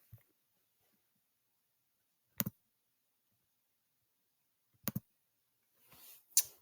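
A few sharp keystroke clicks on a computer keyboard come in three short, separated bursts, each a quick double tap, in an otherwise quiet room with no talking.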